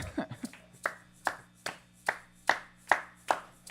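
Steady rhythmic clapping keeping time with a live music performance, sharp evenly spaced claps about two or three per second, close and clear over a faint low musical drone, with no talking.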